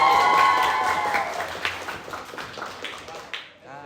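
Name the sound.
classroom applause for a student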